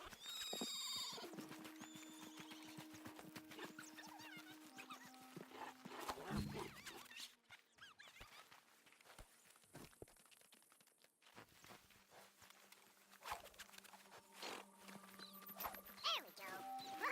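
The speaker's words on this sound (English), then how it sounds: "Oh, shit, the horses! Damn horses!" A horse in Red Dead Redemption 2 whinnies with a high, wavering neigh, then hooves clip-clop at a steady walk through a busy outdoor scene, with shorter animal calls and ambient rustle around them.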